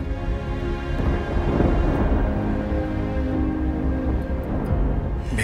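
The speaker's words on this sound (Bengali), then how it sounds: "বাইরে এত জোরে বাজ পড়ছে।" Loud thunder rumbles outside during a storm, a continuous deep roll with steady rain underneath and no voices.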